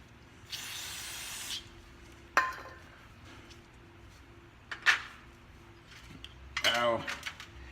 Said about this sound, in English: just spray in here so it comes out there